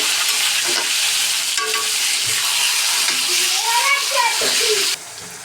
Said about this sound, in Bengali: কচু শাকে জিরা বাটা দিয়ে এখন আরও ভাজা ভাজা করতে হবে।